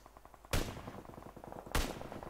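Two loud rifle shots in PUBG PC Lite, spaced just over a second apart, each a sharp crack with a short tail, over a low, steady buzz.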